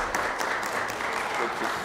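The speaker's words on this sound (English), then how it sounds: "Round of applause." Audience at a Messy Church fifth birthday service claps in a dense, steady burst of applause that fills the room, with no pauses.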